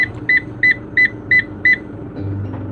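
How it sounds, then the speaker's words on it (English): A vehicle beeps six times in a steady, evenly spaced rhythm, close and clear, before an engine rumble takes over. "Why is the thing beeping like that?"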